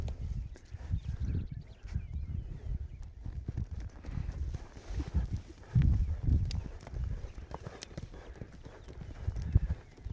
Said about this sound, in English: until he can lope around you and transition up to a lope half a dozen times without raising his tail up